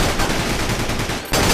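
Rapid automatic gunfire in the Battalion Wars video game, a loud dense burst of repeated shots that breaks off briefly and then resumes.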